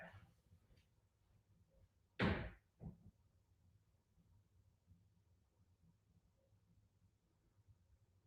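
A door is opened and then shut indoors, giving one sharp loud bang followed quickly by a softer thud, then a quiet room with faint background hum.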